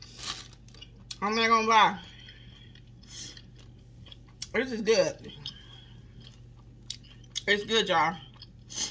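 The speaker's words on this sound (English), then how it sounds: "I got that crunch from the bacon bits." Someone eats a salad with bacon bits, sun-dried tomato and carrot, with three loud bursts of crunchy close-up chewing separated by spoken remarks.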